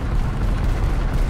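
Bombs explode in War Thunder as a loud, continuous low roar of overlapping blasts, a dense rumbling wall of detonations with no talk.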